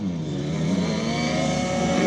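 An 85cc motocross bike's engine drones loudly and continuously while braking into a corner on a dirt track, a buzzing two-stroke note with slight pitch shifts close by.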